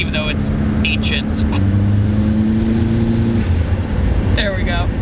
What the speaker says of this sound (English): That's the sound I wanted. Even though it lopes and everything, it's a straight pipe car.